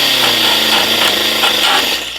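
A grinding stone on a power tool works against metal during a door modification, a loud continuous abrasive whir and rasp that stays close and tapers off at the very end.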